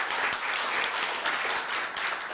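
An audience at a university forum applauds in a dense, steady wash of clapping that fills the hall evenly throughout, with no talk over it.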